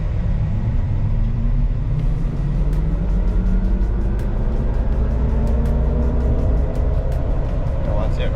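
A 2025 Hummer electric vehicle pulls away from a dead stop at about three-quarter throttle, a rising whine over steady road and tire rumble with faint ticking, heard from inside the cabin.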